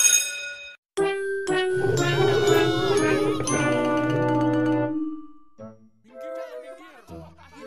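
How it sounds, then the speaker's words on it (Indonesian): School bell chime from the Sakura School Simulator game: a bright electronic ding sequence of several ringing tones sounding clearly for a few seconds, then fading into game sounds with a brief voice near the end. "Tunggu lonceng bunyi."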